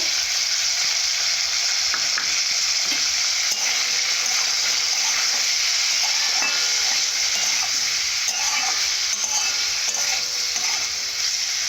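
Vegetables, carrots and beans, frying in a pan with salt, turmeric and chili powder for fried rice: a steady, close sizzle with scattered clicks and scrapes of stirring, and no voices.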